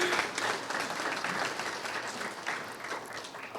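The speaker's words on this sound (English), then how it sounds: "let's give a round of applause to the families" An audience at a high school graduation claps continuously, a dense and steady applause that fills the whole stretch with no speech over it.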